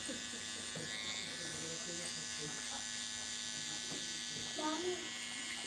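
A Slimline electric hair trimmer gives a steady, close, continuous buzz for a high taper haircut, while a voice murmurs faintly underneath.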